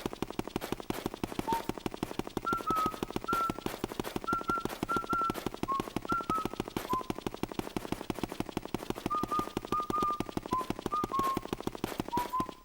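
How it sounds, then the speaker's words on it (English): Luigi whistles a simple theme tune in Luigi's Mansion, a string of short, clear notes in a slow melody across the stretch, set against a dense, rapid, clattering rhythmic background. "Luigi whistling the theme of the game"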